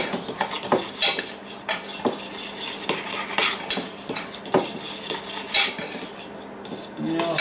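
A spoon mixing rissole mixture in a bowl, repeated clinks and scrapes of metal against the dish in an uneven rhythm, close and clear with no talking.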